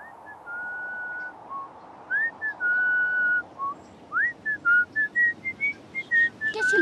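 Someone whistles the Marcha de San Lorenzo alone, clear pitched notes rising and falling in a steady rhythm, growing quicker and choppier toward the end.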